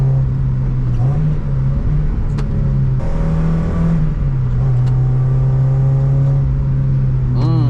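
A Mazda MX5 NA's engine drones steadily from inside the cabin while driving the Nürburgring Nordschleife at night, a loud, continuous hum with small pitch shifts as revs rise and fall, plus occasional clicks and rattles.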